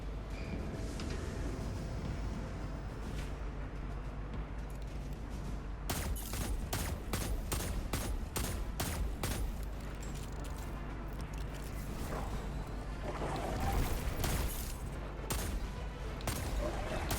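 Hand cannon gunfire in Destiny 2: a rapid string of sharp, evenly spaced shots fired in a burst, with a few more scattered shots later over a low, steady game background.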